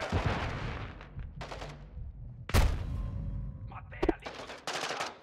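Gunfire from the video game Call of Duty: Modern Warfare II, with sharp bursts of shots and a loud blast near the middle, followed by more rapid fire over a rumbling background, with voices speaking at times.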